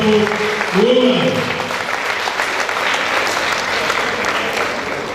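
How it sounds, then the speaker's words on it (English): An audience at an alumni anniversary conference breaks into sustained applause, dense and fairly close, while a voice speaks briefly over the opening claps before the clapping continues on its own. "Please, round of applause for this wonderful woman."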